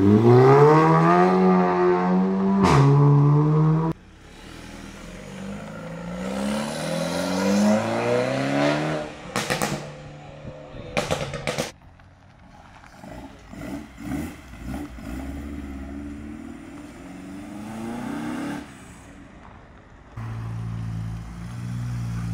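Modified tuner cars rev and accelerate away from AdamC Fest 2024 car show, several loud engine bursts and revs in sequence with rising and falling pitch, close by, crowd noise faint underneath.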